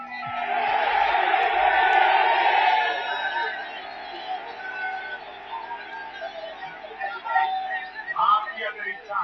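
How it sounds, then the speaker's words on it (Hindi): A large political rally crowd in India chants rhythmically, a loud swell of massed voices that fades after a few seconds into softer, scattered calls and a single voice. "भीड़ से दिल्ली दिल्ली पीएम पीएम की आवाज उठी"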